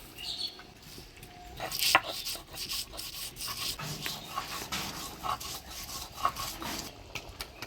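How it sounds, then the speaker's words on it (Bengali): Small shrimp being ground into a paste make a steady, rhythmic scraping and rubbing close by. Faint chirps are heard in the background. "আমি ততক্ষণে চিংড়ি মাছটা বাইটে নিই।"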